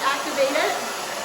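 A hair dryer blowing steadily on hair at a salon gives a close, continuous whooshing hiss for a moment.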